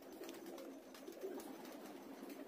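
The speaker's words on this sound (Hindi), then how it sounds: "एकदम टॉप क्वालिटी के ये कबूतर हैं भाई" Desi pigeons, including Kalsira and Udde breeds offered for sale in Kiratpur, Bijnor district, coo softly and steadily against a constant background hiss, with no talking.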